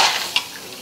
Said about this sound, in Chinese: 大料下锅